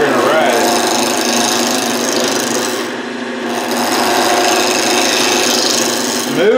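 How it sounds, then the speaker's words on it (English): Wood-turning tool cutting on a lathe while making bottle stoppers, a steady loud scraping rasp that runs continuously, dipping briefly midway before resuming at full strength. "We're gonna hold our tool on the tool rest, and we're gonna get the bevel so we're cutting,"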